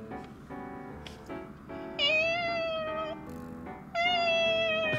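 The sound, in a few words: person imitating a hungry cat meowing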